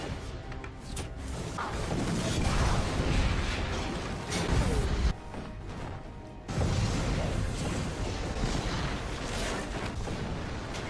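Explosions from a Batman film scene starring Christian Bale: a dense, loud, continuous roar of blasts and crashing debris, with a brief dip near five seconds before the barrage resumes.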